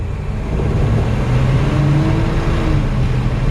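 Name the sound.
1948 Oldsmobile Coupe engine starting and running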